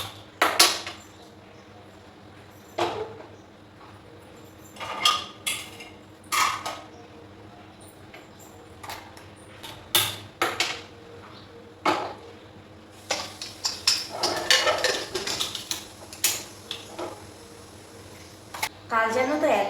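Pots, pans and utensils clank and clatter in a home kitchen as cooking gets underway, scattered metallic knocks and scrapes coming in irregular bursts, close to the microphone.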